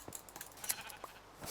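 Sheep bleating in a video game, a few short, faint bleats scattered over a brief stretch of quiet game ambience.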